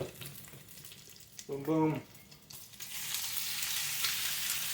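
Beef, two to three pounds, goes into a crowded skillet to brown for Hungarian goulash; a short spoken bit comes first, then a loud, steady sizzle swells up and carries on evenly.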